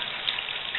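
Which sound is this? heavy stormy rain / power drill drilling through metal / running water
running water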